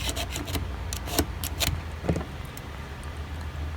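A small burr is scraped off the locking bar of a Zenith watch movement, producing close, gritty scraping strokes in quick bursts over a steady low background hum.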